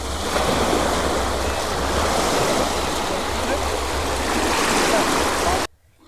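Sea waves wash steadily onto a beach at Baguran Jalpai–Haripur near Kolkata, a loud, continuous broadband roar with wind buffeting, running unbroken for about six seconds before cutting off abruptly.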